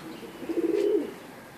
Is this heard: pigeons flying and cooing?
yes